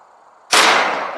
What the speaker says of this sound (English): First up, Winchester Long Range Expedition 300 Win Mag.